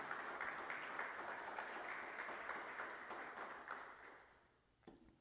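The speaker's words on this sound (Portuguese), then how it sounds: "Quem crê nisso, aplauda Jesus bem forte nesta manhã." A church congregation in São Paulo applauds during a Sunday morning service, a loud, steady wash of many hands clapping that tapers off near the end.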